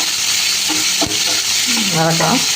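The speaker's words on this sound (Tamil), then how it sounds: "மொத்தமாக சேர்த்து கொட்டிட்டு வதக்கி விட்றோம் பாருங்கள்." Tomatoes and onions sautéing in a pan for pea masala, a loud continuous sizzle with stirring scrapes through it, close and dense for a few seconds.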